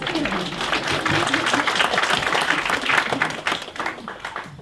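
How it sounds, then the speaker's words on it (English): Audience applause from a crowd at a talk, a dense steady patter of many hands clapping close by for several seconds, with scattered voices mixed in. "Gotta give these people a round of applause."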